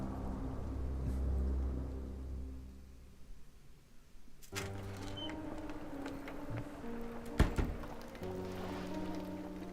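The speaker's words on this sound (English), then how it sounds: "Like how it's raining." Steady rain falls in the Sherlock Holmes The Awakened video game, a soft continuous wash with a low rumble, joined midway by layered atmospheric game sounds and a few brief thumps.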